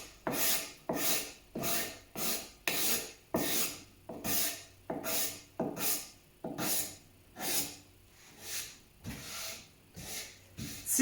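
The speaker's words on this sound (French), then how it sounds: "on peut prendre la lame d'ébéniste pour enlever le gros des imperfections" A hand-held cabinet scraper is drawn over wood to remove dried glue spots and pencil marks, making about a dozen rhythmic rasping strokes in a steady back-and-forth pattern, close up and without talk.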